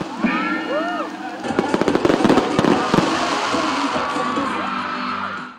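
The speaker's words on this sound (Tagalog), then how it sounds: "Sinamahan din ito ng grand fireworks display." Grand fireworks display at a festival opening: a rapid cluster of sharp bursts and crackles, loud and close, over a cheering, whooping crowd and a steady background hum.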